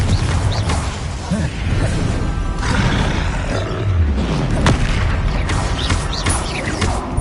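A Confringo fire-blast spell cast in Hogwarts Legacy, heard as loud, continuous booming and roaring bursts with crashing impacts that swell and fade over several seconds of dense game combat noise, with no clear speech.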